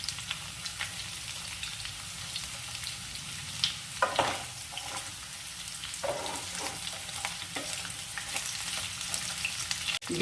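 Vegetables frying in oil in a pan as beans are added, a steady close sizzle with occasional stirring scrapes and clatters throughout.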